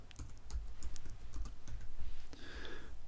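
Keys clacking on a computer keyboard as a layer name is entered in Photoshop, a quick run of close, crisp taps with brief pauses, ending in a short bright tone.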